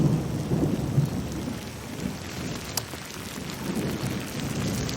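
Steady rain pours down continuously, with a dull low rumble of distant thunder beneath it and no voices, a dense even wash of drops throughout.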